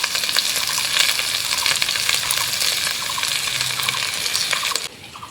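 Vegetables being stirred with turmeric powder in a frying pan for a fish curry with potatoes and taro stems, giving a steady loud sizzle with scraping spoon strokes throughout, ending abruptly near the end.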